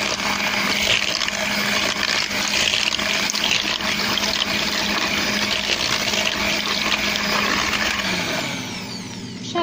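An electric mixer whirs steadily through cake batter made with olive oil, sugar and mandarin or orange for a vegan apple-walnut cinnamon loaf, a loud continuous motor drone that eases off near the end, with no talking.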